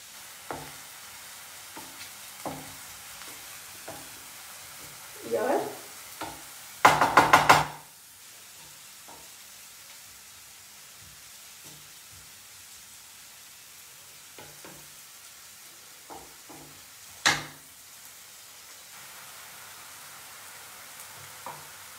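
Food fries over high heat in a pan, caramelizing, with a soft sizzle beneath scattered stirring scrapes and knocks of a utensil, including a louder clatter burst midway.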